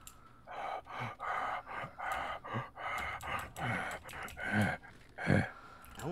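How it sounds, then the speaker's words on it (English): Heavy breathing in a video game, a steady rhythm of about a dozen close, raspy inhales and exhales, each breath distinct and slightly strained. "I hear heavy breathing."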